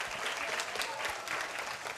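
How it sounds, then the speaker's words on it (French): A TV show audience claps steadily for a band, a dense wash of applause that carries on evenly without letting up. "est-ce qu'on peut les applaudir encore bien fort?"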